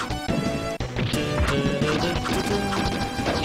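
Melee strikes from a bow weapon in a Mighty Morphin Power Rangers video game land amid dense game music and effects, with sharp crashing impacts recurring every fraction of a second.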